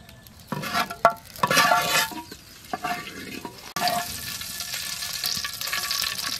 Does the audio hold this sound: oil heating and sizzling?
yes